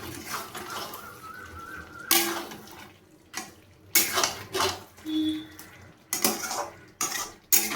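Chicken curry with kasuri methi stirred in a metal pot, with close, irregular clanks and scrapes of a spoon against the pot in bursts separated by short pauses.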